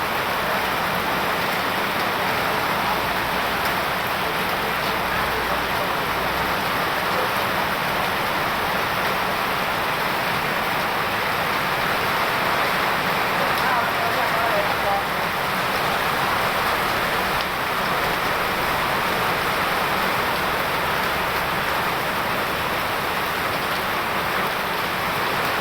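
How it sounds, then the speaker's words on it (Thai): Heavy rain pours steadily over Vientiane, a dense continuous hiss of drops hitting surfaces that stays loud and unbroken throughout, with no voices. "ตอนนี้ฝนตกแห้ง"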